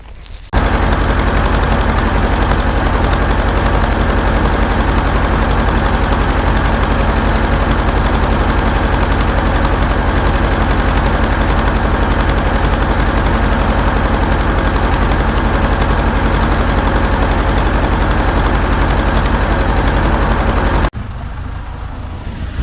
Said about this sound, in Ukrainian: зараз візьму трактор, привезу те, що привезу, соберу.